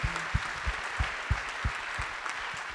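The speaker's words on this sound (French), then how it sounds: "J'aimerais qu'on applaudisse." Audience applause at a French CFO awards night, a steady wash of clapping with sharp low thumps recurring under it, moderately loud and without talk.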